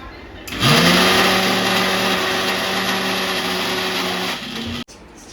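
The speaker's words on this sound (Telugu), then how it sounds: "మిక్సీ పెడుతుంది ఇప్పుడే." A mixer grinder (mixie) runs in a kitchen, starting abruptly with a steady, loud motor whine and hum that holds constant for about four seconds before cutting off.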